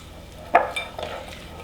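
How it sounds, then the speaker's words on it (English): A utensil scrapes and clinks against a pan while salmon with Italian seasonings and smoked paprika is stirred, with a sharp metallic tap followed by softer scraping strokes against a quiet background. "so let's stir this up"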